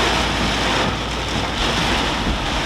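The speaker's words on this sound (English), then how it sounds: "That there is what you call a washing rain. That's that wet rain." Heavy, wet summer rain pours down during a hay-season storm on a farm, a loud, steady, unbroken hiss close at hand with no voices.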